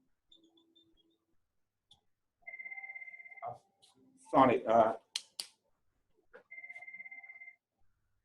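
A phone rings twice in a lecture hall, two bursts of steady electronic trilling separated by a lecturer's brief spoken words, moderately loud against a quiet room.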